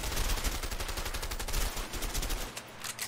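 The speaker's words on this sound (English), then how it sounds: "where we take machine guns and start firing a wooden house" Rapid, continuous machine gun fire in the game A Way Out rakes a wooden house, a loud unbroken rattle of shots filling the whole stretch with no voices over it.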